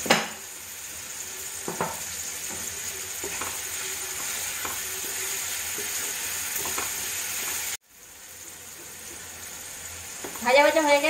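Rice and vegetables sizzle in a pan as a utensil stirs them, its scrapes and taps coming at irregular moments over a steady frying hiss, which breaks off briefly before resuming.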